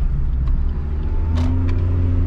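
A 2017 Suzuki Baleno with a freshly rebuilt small non-turbo engine driving along, giving a steady low engine hum and road rumble heard from inside the car, with no talking.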